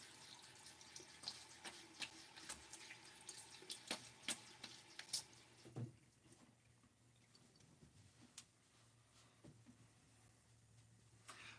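Running water splashes over a safety razor at a sink, with irregular dripping and patter in the first half, then quieter trickles and a few faint clinks alone.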